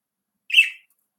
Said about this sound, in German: der Vogel.